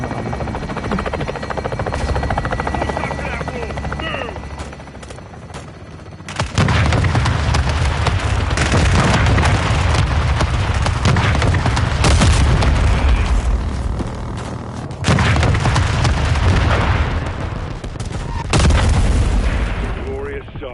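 Modern Warfare 2 airstrike hitting a building: heavy explosions swell into a long, loud, rumbling roar, ease briefly, then surge again, with aircraft engine drone running throughout.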